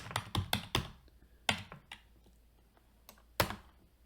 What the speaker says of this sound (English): we can just type in any value we want and it'll pop up there